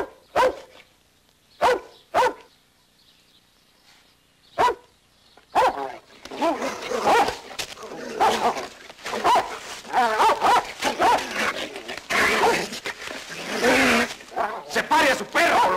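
Dogs fight and bark in a 1980 film, starting with sharp isolated barks and then erupting into continuous snarling, yelping and barking, loud and close, with shouting voices mixed in.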